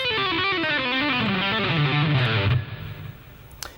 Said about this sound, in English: it's quite important when you're doing any legato passages